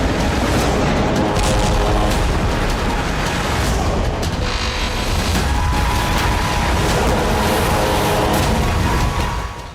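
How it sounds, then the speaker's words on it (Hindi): Cluster bombs explode over an Armenian–Azerbaijani battlefield. The booms and blasts merge into a dense, continuous rumble, loud and unbroken from start to finish. "महातबाही मचाने वाले बम के धमाके से युद्ध का मैदान मरघट में बदल चुका है"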